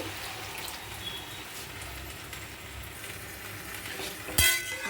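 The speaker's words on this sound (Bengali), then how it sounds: "এবারে অল্প করে জল দিয়ে দিলাম আলুটা সেদ্ধ হবে" Potatoes for aloo posto with poppy seeds, nigella seeds, salt and green chilli sizzle steadily in a pan after a little water is added, with a brief utensil clatter near the end.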